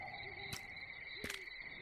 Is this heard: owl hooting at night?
yes